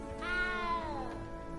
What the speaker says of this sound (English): There's a cat in their common room.